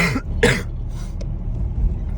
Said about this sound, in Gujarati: મને થોડીક ઉધરસ થઈ ગઈ છે